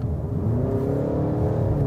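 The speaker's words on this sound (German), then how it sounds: "Ich finde, er ist sehr, sehr laut, denn man hört den Motor doch sehr stark." A new VW Tiguan engine drones steadily from inside the car, a loud, low rumbling whir with a slight rising tone and no voices over it.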